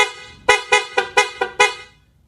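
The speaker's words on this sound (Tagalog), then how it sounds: "Loud horn." Stock horn on a Honda TMX 155 motorcycle sounds in six loud, close honks, each a short blast a fraction of a second apart, then falls silent.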